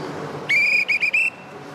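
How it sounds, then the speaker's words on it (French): A railway station guard blows a shrill whistle on a platform at Limoges station: one sustained blast followed by two short pips and a final longer toot. It is loud and clear over a low background hum. "Bon, un petit coup de sifflet, ça va séparer les amoureux."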